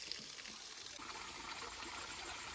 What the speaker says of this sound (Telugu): మీరు కూడా చూడవచ్చు ఇక్కడ కొండ అంచుల నుంచి మనకి ఇక్కడ జలధార పడుతుంటుంది.